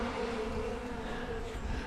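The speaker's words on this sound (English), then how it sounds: "I got quart jar full of honeybees." Honeybees buzz inside a quart jar, a steady dense drone of many wings close to the microphone, fairly soft and continuous with no one talking.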